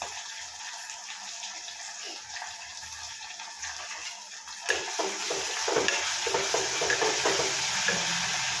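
Broad beans fry in a hot pan, with a steady loud sizzle that swells after a sharp clink about halfway through, followed by continuous stirring scrapes close by and no talking.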